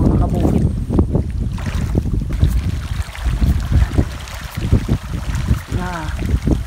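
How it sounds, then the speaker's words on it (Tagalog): Strong wind buffets the microphone over an outdoor fish pond during feed scattering, a steady broadband roar with gusty swells and low rumble throughout, with faint voices partly mixed in. "Mahirap kumontra dun sa hangin pag nagsasabog ng feeds"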